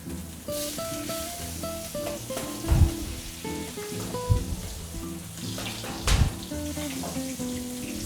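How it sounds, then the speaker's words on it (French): Meat sizzles in a hot pan while it is basted with butter, a steady broad frying hiss under prominent melodic music, with a few louder spattering bursts. "J'essaie d'arroser au beurre au maximum."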